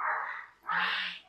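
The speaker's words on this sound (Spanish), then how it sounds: "Ya empieza la perra a ladrar como todos los días" A female dog barks twice in quick succession at home, fairly close and clear, each bark a drawn-out yelping call.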